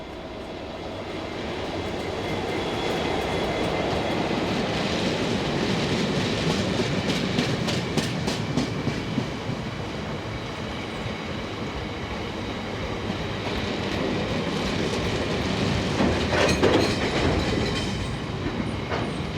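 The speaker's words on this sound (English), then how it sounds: "59204 heads empties from Chichester to Merehead." British Rail Class 59 diesel locomotive 59204 hauling a train of empty stone wagons from Chichester toward Merehead, a steady loud engine drone with wheel clatter, sustained throughout as the train rolls past.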